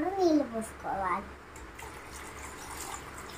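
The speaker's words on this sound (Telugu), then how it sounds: "ఇందులోనే సరిపడా నీళ్ళు పోసుకోవాలి" Water is poured into a salted, spiced buttermilk mixture, a low, running splash that follows a short burst of a voice talking.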